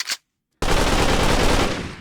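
Gunfire in Pwn Adventure 3, a short shot followed by silence, then a loud, dense sustained burst of rapid automatic fire.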